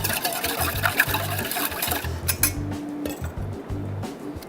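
Close metallic clinks and rhythmic rattling as a whisk beats a dressing of dried red pepper flakes, pepper and salt in a bowl, quick, fairly loud strokes with a few brief pauses.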